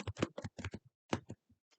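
Typing a formula into Google Sheets on a computer keyboard, a quick close burst of clustered key clicks, then a brief pause and a few scattered final taps.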